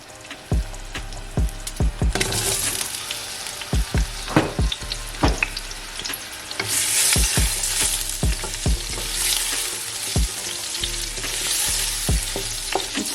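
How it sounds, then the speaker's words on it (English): Onions and green chilies with ginger-garlic paste stir-fry in a pan for a kofta and spinach curry, a steady close sizzle punctuated by repeated sharp knocks of a spoon against the pan, no talking. "Stir fry these until the onions go golden brown."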